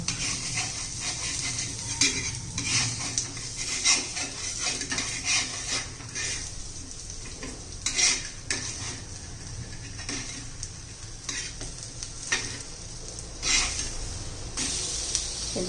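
Eggplant slices fry in oil in a pan while being turned over with a utensil, a steady close sizzle broken by scraping and light metal clinks throughout, with no talking.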